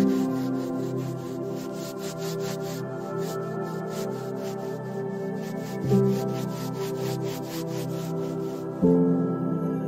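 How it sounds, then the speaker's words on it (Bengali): Two hands rubbed together steadily, a soft, continuous swishing friction close by, repeating in an even rhythm for several seconds with no talking. "ধীরে ধীরে চোখ বন্ধ রেখে দুটো হাতকে ঘষা শুরু করো।"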